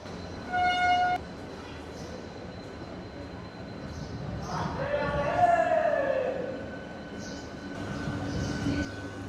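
A train at platform 8 of Santragachi station near Kolkata in the early morning: a short tonal horn blast, then squealing wheels and rumbling rail noise that swells midway before settling into a steady platform hum.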